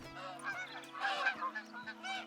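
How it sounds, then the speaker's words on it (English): Geese honk in a hunting video game, a flock calling close and loud in overlapping nasal honks for a couple of seconds. "if you're in a case like this where you're absolutely swarmed by geese"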